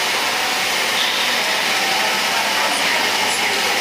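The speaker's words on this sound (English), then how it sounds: "This is the complete production line for the FTTH cables." An FTTH optical fiber drop cable production line runs nearby, a loud, steady mechanical roar and hiss that stays unbroken throughout, with no voices over it.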